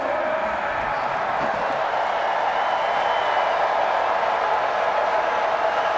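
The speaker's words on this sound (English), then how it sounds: "And a boisterous NC State crowd getting loud" A large NC State football crowd roars at a 2017 home game against Marshall, a loud, unbroken wash of stadium noise with a voice faintly mixed in underneath.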